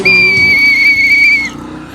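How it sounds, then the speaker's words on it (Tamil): A single long, loud, steady whistle blast from boys on a roadside carries for over a second, then cuts off, with faint traffic rumble underneath. "அந்த பசங்க விசில் எடுத்து சுத்திட்டு இருக்காங்க"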